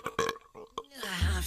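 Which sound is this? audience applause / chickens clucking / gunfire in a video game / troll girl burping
troll girl burping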